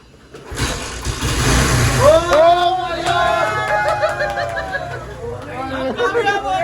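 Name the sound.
motorbike engine starting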